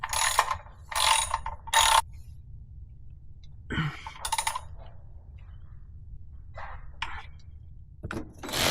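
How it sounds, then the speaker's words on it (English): Ratchet clicks in three quick bursts as the oil drain plug on a Porsche Cayenne Turbo is torqued down to spec, followed by a clunk and a few fainter ratcheting strokes, close and alone. "we're gonna torque this down to 20 foot-pounds"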